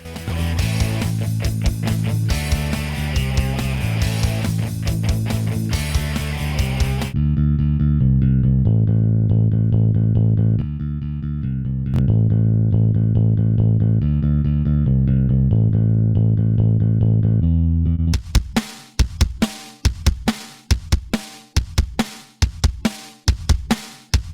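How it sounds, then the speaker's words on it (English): Music demo of the Klanghelm IVGI saturation plugin adding dense, dirty distortion to single tracks. A loud saturated passage gives way to a sparser tonal section, then ends in hard, punchy distorted hits, with no voice. "It's also just as capable of delivering dense and dirty distortion effects on single tracks too."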